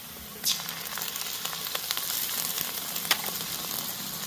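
Onions and ginger paste fry in hot oil for a Bengali river fish curry, a steady close sizzle with crackling bursts and a sharp spatter near the start and again toward the end, no voices.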